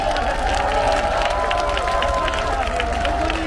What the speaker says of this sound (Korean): 네, 다시 한번 큰 박수 부탁드리겠습니다.